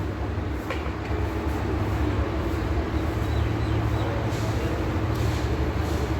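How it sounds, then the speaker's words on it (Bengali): A Sylhet Express passenger train rolls into a Bangladeshi railway station without stopping as a green flag is shown, producing a steady, loud rail rumble and wheel roar that fills the whole stretch with no voices over it. "অলরেডি সিলাটি এক্সপ্রেস প্রবেশ করেছে"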